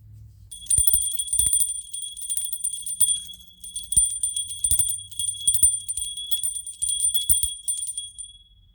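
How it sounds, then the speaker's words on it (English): A small bell is rung repeatedly to clear the energies before a tarot reading, giving sustained bright metallic ringing with a steady series of strikes that sound close and fairly loud, with no talking. "I'm just gonna clear the energies with the bell"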